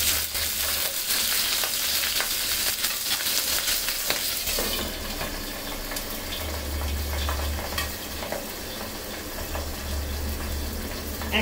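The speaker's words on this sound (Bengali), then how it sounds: "এখন এটা মাছটা আমি ভালো মতো কড়া করে ভেজে নিব" Pabda fish fries in hot oil with a steady, bright sizzle and crackle. The sizzle grows fuller partway through and then holds, close up, with no talking.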